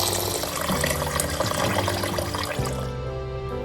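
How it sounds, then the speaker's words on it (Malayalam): Water poured into a bowl of lentils and poha to soak them, a steady close splashing pour that runs for a few seconds and then drops off into a quieter trickle. "നമുക്ക് വെള്ളം ചേർക്കാം കേട്ടോ."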